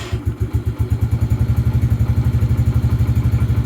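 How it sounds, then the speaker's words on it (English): A Lifan King motorcycle engine catches and settles into a fast, even single-cylinder putter, close and loud, each firing pulse clearly separated. "We'll just start the engine again."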